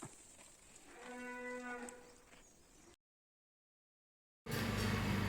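A pregnant dairy cow grazing in a field lets out one drawn-out, tonal moo, moderately close over faint background noise, followed by a gap of silence and a burst of louder outdoor noise.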